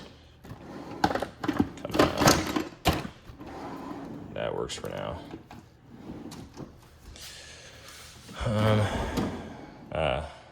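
A tool chest drawer slides and bumps shut among a few clattering knocks and thuds, with a person talking nearby between the sounds.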